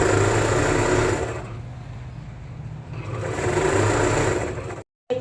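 A sewing machine runs steadily as it stitches Patiala salwar fabric, a close, continuous mechanical whir that eases off in the middle, builds again, and cuts out briefly just before the end.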